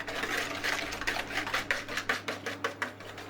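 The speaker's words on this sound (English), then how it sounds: "Give it a good mixing, a whisking" Eggs being whisked in a bowl make rapid rhythmic tapping and scraping, steady and close, quickening into evenly spaced strokes toward the end.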